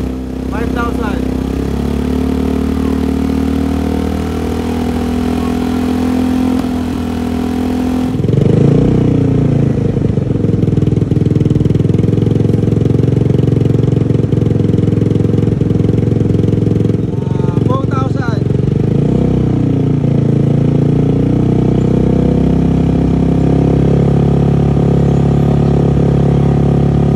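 A Carbon370 engine runs steadily and loud, held around 2,000 to 2,500 RPM, with a slight change in pitch partway through and brief rises in revs. Voices talk over the engine throughout.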